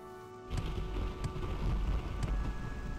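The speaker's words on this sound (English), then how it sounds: "It's raining." Steady rain falls in the video game Morrowind, a constant broadband patter that starts abruptly after a brief quiet moment and continues evenly, with no talk over it.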